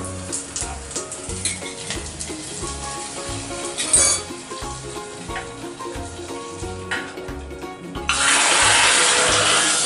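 Roasted coconut mixture tipped into a Kerala-style crab curry in the pan gives a low bubbling simmer, then a sudden loud, sustained sizzle bursts out near the end and holds steady.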